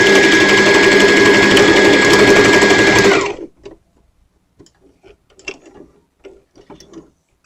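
A sewing machine runs a back stitch on a skirt dart, a loud continuous whirring hum for about three seconds, then stops, leaving soft scattered clicks and fabric handling.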